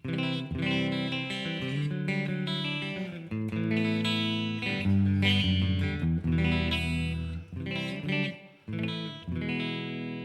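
A clean electric guitar through a Blackstar Amped 3 plays warm, sustained chords drenched in lush reverb, ringing continuously with brief pauses between phrases.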